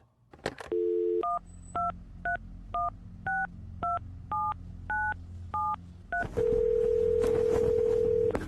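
A telephone call placed to an inmate at Glades Correctional Facility, a jail: about ten crisp touch-tone key beeps in an even rhythm, then a long, loud, steady tone as the line connects.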